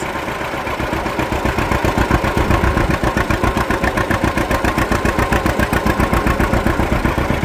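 John Deere A tractor engine pulling up a small hill under throttle, a loud, close, steady low-pitched chugging with a strong regular firing pulse throughout.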